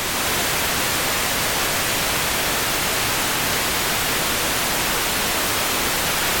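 Pink noise test signal playing in FL Studio: a dense, constant broadband hiss at steady loud level for the whole stretch, alone with no voice.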